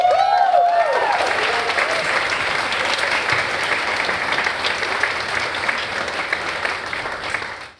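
Audience at a Major League Hacking hackathon conference session bursts into loud, steady clapping that holds across the room and tapers off at the very end, with a brief voice at the start.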